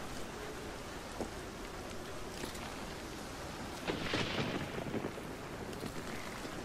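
Steady rain hisses during a thunderstorm in the video game The Cave, with a short crackle early on and a rolling burst of thunder building and fading midway.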